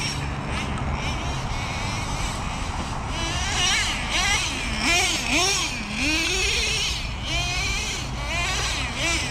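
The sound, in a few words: Traxxas Nitro Revo 3.3 RC truck engine running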